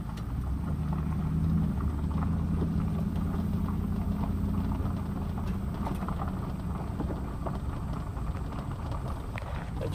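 A Ford 7.3 diesel truck engine running at a distance, a steady low rumble and drone under broad ambient noise, faint and continuous throughout.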